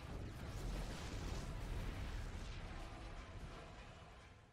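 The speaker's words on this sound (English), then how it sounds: "The explosions have stopped." Explosions in StarCraft 2 rumble continuously as a dense, rolling roar of overlapping blasts, fairly faint and gradually tapering toward the end.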